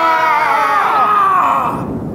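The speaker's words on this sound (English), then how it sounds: "now I'm going to scream for all the characters, which we can all overlay together" A narrator screams in character, one sustained, strained, loud wail lasting about two seconds, close to the mic with no other voices, cutting off abruptly at the end.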